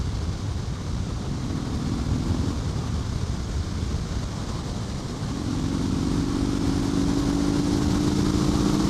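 A 2015 Harley-Davidson Street Bob pulling in fifth gear around 2,300 RPM, a steady low engine drone under heavy wind rush that grows slightly louder and rises in pitch partway through.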